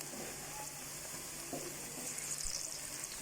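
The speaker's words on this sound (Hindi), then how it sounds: "प्याज ज़रा सौते हो जाते हैं" Onions sautéing in oil in a pan for a zucchini curry, a steady low sizzle throughout with a few faint stirring clinks, close and fairly quiet, no talking.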